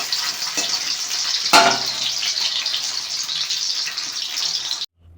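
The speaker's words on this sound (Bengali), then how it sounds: "তেলটা গরম হয়ে আসলেই তার উপরে দিয়ে দিতে হবে আলু।" Boiled potatoes going into hot oil, with a burst of sizzling as they hit, then a loud, steady frying hiss that runs close and unbroken until it cuts off just before the end.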